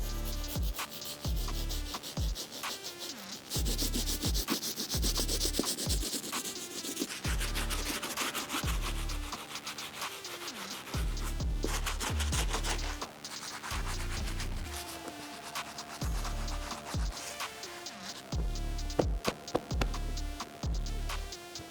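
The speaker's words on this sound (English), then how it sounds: "I'm gonna grab our stiff bristle brush, work on this midsole and outsole" A stiff bristle brush scrubs the midsole and outsole of a Nike Futura Dunk sneaker in rapid, repeated strokes, a close, steady rasping that comes in bursts with short pauses between passes and no talk.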